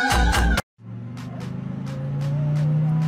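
A car speeding along, its engine droning steadily and rising gradually in pitch after a short opening burst of noise, with faint higher tones and brief bright noises above it.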